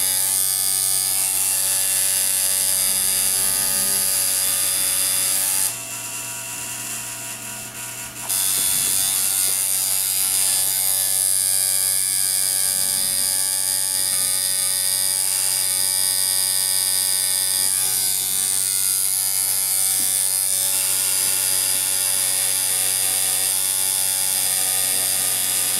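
A Ground Zero tattoo machine buzzes continuously and loudly up close, a steady electric whine with mechanical rattle and mains hum, briefly changing tone for a couple of seconds before resuming.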